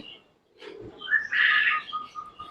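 Chickens and pigeons at a small bird sanctuary at the foot of a hill in Malaysia, heard as a few brief chirps and calls, moderately faint, with quiet gaps between them.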